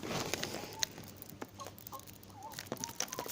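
Laying hens at a farm clucking faintly while being fed pellet feed, with scattered soft clucks and chirps over a light patter and low background hiss.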